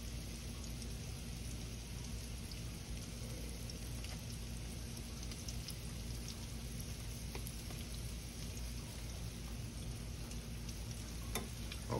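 Crab cakes fry in an unevenly heating skillet, giving a steady, dense sizzle that runs unbroken from start to finish with no talking.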